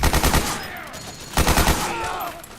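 Bursts of rapid automatic gunfire ring out in the video game Metal Gear Solid 4, two loud volleys with echoing tails and battlefield shouting mixed in.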